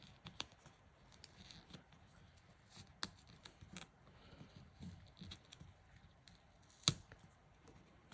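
Scissors cut through sticker paper in a quiet room, giving faint, scattered snips and rustles that include one sharper snip near the end.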